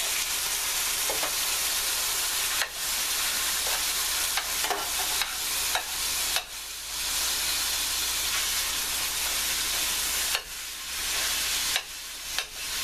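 Canned pork sizzles and hisses steadily as it hits a hot pan of caramelized onions, with a constant frying roar and occasional stirring scrapes and clicks, no talking.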